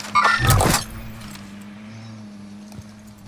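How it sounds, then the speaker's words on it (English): An enemy vehicle in Call of Duty: Warzone roars past close by in a loud, brief burst, then a steady engine hum lingers in the background. "Enemy vehicle!"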